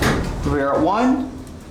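An Otis Series 1 hydraulic elevator door slides shut at a church's ground floor, a brief, steady mechanical rumble with a voice talking over it.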